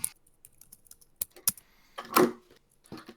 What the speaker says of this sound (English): I am finishing typing something.